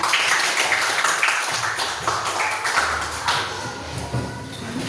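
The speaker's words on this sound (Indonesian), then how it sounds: "tepuk tangan untuk temannya juga" Children clap for a classmate during a classroom anatomy lesson, a loose patter of small, uneven hand claps and taps, fairly close and lively, with a few louder individual slaps standing out.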